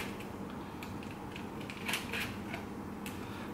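Small screws come out of a Lenovo Ideapad 330S laptop while its hard disk caddy is removed, giving faint, close clicks and light creaking turns against a quiet hiss.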